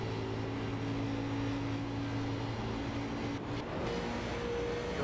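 Onboard engine of a Toyota Camry stock car in the Diehard Racing American Hero Hunt Cup Series at Auto Club, a steady loud droning roar with tonal harmonics holding throughout, briefly dipping and shifting pitch near the end.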